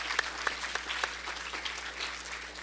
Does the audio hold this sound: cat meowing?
no